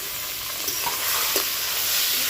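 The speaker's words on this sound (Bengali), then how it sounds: "আর এর মধ্যে দিয়ে দেবো ডালটাকে সব একসাথে ভেজে নেব" Rice and lentils are frying together in a pan for bhoger khichuri, making a loud, close, steady sizzle with soft stirring scrapes throughout.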